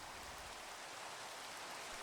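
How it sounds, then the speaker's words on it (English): Steady rain falling in a Minecraft world, a soft, even hiss of drops at low volume, continuous and unbroken with no voices. "with the rain hitting in"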